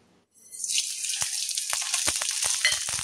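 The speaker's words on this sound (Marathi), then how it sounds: "हें वांगडाच घालता हांव तेल तापलां" Eggplant dropped into hot oil, a sudden loud sizzle bursting up after a quiet moment and then holding steady with crackles and pops, close by, with no talking.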